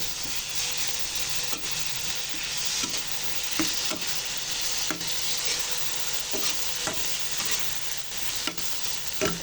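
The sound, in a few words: hand-crushed tomatoes cooking in a pan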